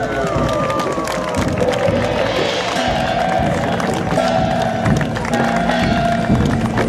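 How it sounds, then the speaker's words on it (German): A large outdoor crowd at a Berlin lantern parade applauds and cheers, with mixed clapping, scattered shouts and children's voices blending into a continuous, lively din. "Und ich bitte jetzt für alle um einen riesengroßen Applaus."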